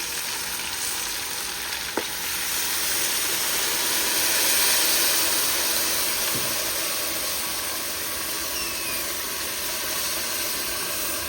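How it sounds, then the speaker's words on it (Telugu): Tamarind juice for pulihora hits a hot pan and sizzles steadily, a continuous close hissing fry with a slight swell in the middle and no talking. "ఇప్పుడు మనం చింతపులుసు పోసుకోవాలి"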